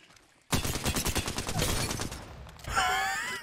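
Rapid gunfire in a battle royale video game with an infection mode, a dense burst of shots at close range, fading, followed by a sharp whistling effect near the end.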